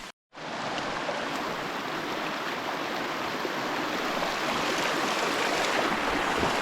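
Rainwater rushes down a White Mountains hiking trail like a river after a downpour, a loud, continuous broadband roar of flowing water close to the listener, steady throughout after a brief silent start.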